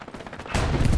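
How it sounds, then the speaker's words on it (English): Strafing-run gunfire from an aircraft in the Hell Let Loose battlefield game, a quieter crackle that suddenly swells halfway through into a loud, dense roar of rapid shots. "Strafing run."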